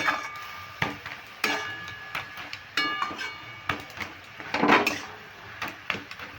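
A metal spatula scrapes and knocks against a pan while khesari greens are stirred after sugar goes in, giving irregular clacks and scraping over a steady background hiss.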